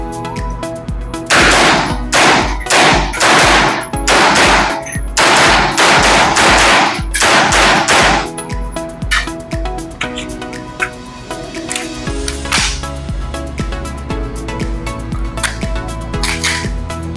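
Repeated bursts of automatic firearm fire at a shooting range, loud and close, in rapid strings of shots with short pauses, then quieter scattered single shots and clatter toward the end.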